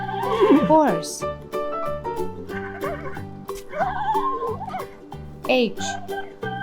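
A cartoon-style horse neighs twice in an animated farm-animal learning song for toddlers, with loud descending whinnies rising over a bright musical backing.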